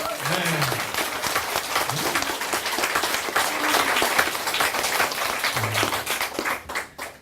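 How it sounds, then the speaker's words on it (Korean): Audience at a Korean book-author talk clapping for themselves, a dense sustained round of applause with some background voices and vocal sounds mixed in, fading toward the end. "자기 자신한테 박수 한번 치세요"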